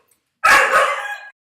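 A single loud, close dog bark, or a short yelping burst lasting under a second, rings out sharply against otherwise silent surroundings.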